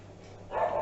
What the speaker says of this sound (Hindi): बेटा बहुत ज़्यादा कुत्ते भौंक रहे हैं मेरे घर के पास।